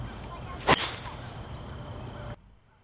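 Golf club striking the ball on a tee shot at the 18th hole of the Woods Course at Kingsmill Resort, one sharp crisp crack followed by a brief whooshing tail, outdoors over faint steady background noise.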